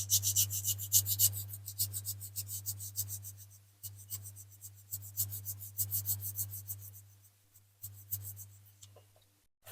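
320 grit sandpaper rubbed by hand over a diecast Corgi toy minibus, quiet rhythmic scratchy strokes repeating steadily over a low steady hum, close up.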